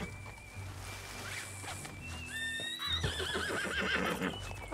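A donkey painted to look like a zebra in Red Dead Redemption 2 calls out with a whinnying, braying cry over clip-clopping hooves and game ambience, growing louder toward the end.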